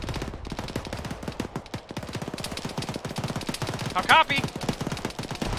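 Dense rapid gunfire from an ArmA 3 firefight crackles throughout, bursts of automatic fire stacked over single shots, with a voice briefly speaking over the barrage.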